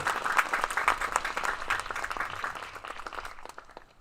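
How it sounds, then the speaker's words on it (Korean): A church congregation claps together during a thanksgiving service for a Christian school's campus relocation, a steady patter of many hands that stays fairly faint and gradually tapers off. "박수 한번 보내세요"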